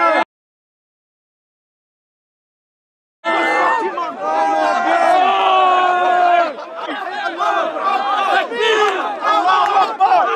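A dense, loud crowd at Speakers' Corner shouting and yelling at police officers, with many overlapping voices and raised cries rising after a brief silent gap and continuing steadily.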